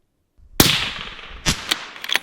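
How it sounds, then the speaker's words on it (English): A rifle fired with Nosler ammunition at a long-range target: one sharp, loud crack from near silence, then a decaying tail and a few shorter pops. "That was the Nosler that you just shot?"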